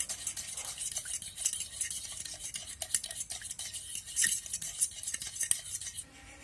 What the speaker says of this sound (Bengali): এবার সবকিছু সুন্দরভাবে মিক্সড করে নিচ্ছি।